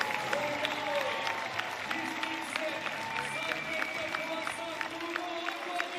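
Crowd at an indoor athletics meeting on the World Athletics Indoor Tour applauding steadily throughout, a dense continuous wash of clapping with rhythmic claps standing out, heard from within the hall.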